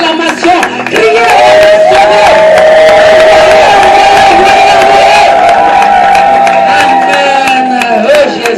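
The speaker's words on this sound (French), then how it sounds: "Nous pouvons l'adorer par nos acclamations. Criez," A large church congregation cheers and shouts loudly and continuously during a worship service, with whoops rising above a sustained roar and a held high vocal tone running through.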